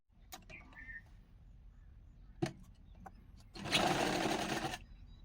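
A sewing machine stitching together cut blouse design pieces for a prince cut boat neck blouse: a few light clicks and taps, then one short, quick burst of stitching.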